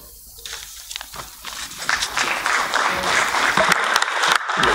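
An audience at a general assembly breaks into applause that swells from a faint start into steady, dense clapping, loud and close, with no speech over it.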